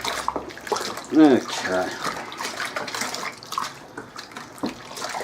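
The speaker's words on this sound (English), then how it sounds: "let's give it a nice loving stir, get all them clumps off the side." Home brew beer kit mixture for a Black Rock Mai Bock is stirred in a vessel, with swirling, sloshing liquid sounds close by and a brief voice over the stirring.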